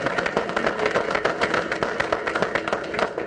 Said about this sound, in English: Yeah, we can clap for Danny too.